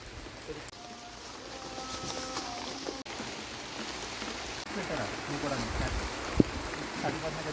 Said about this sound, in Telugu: ప్యాకింగ్ చేస్తున్నప్పుడు కరెక్ట్గా వర్షం అయితే పడుతూ ఉంది